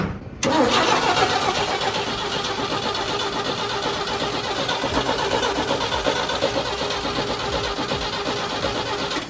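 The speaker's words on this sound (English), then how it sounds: "We're gonna go ahead and try to crank it over for the first time, see if we can get some fuel moving up front." A 1960 Chevy C10 barn-find truck, cranked over for the first time during restoration; after a short pause the engine catches and runs steadily at a loud, rough idle throughout, close by, with no talk.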